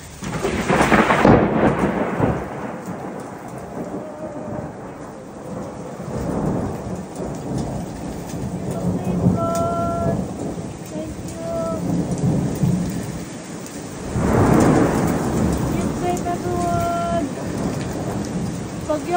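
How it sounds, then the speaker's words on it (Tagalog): Heavy rain with hail pounds down during a thunderstorm in Cochrane, a loud constant hiss broken by deep rumbling thunder peaks near the start and again midway, with no talking. "Ang lakas ng ulan."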